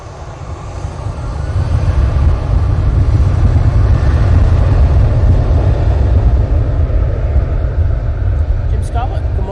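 A Ryanair airliner departs Manchester Airport, its engines a steady, loud low roar throughout at takeoff power, with faint voices underneath.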